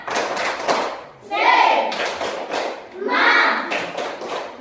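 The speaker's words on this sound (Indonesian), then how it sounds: "Nah, tepuk semangat kita dulu. Tepuk semangat." A classroom group of children performs a rhythmic clapping chant, bursts of patterned claps alternating with shouted chant phrases, loud and close, with a teacher leading.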